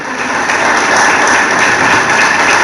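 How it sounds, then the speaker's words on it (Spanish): Dense, sustained applause fills a church service, a steady wash of many hands clapping at once without pause. "le damos un aplauso al Señor, le damos un aplauso a Jesús"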